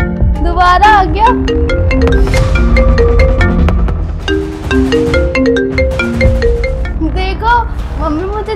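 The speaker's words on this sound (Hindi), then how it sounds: "उनका फोन आ रहा है।" A phone ringtone plays a steady, tuneful melody of repeating tones, loud and continuous, with a short break partway through before it resumes, set against a home background.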